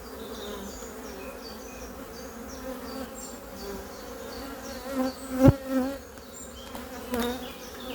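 Honeybees swarm around an open hive, a dense, continuous buzz close by, swelling briefly with a few sharp knocks near the middle.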